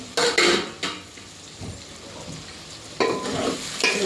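Vegetables for sambar sizzling in a pan while a spoon stirs them, short scraping bursts of stirring near the start and again toward the end over a quieter steady frying hiss.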